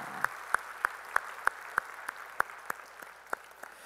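Church congregation clapping in praise after a hymn during a Sunday worship service: steady, evenly spaced claps in a firm unison rhythm, close and clear over a quiet room.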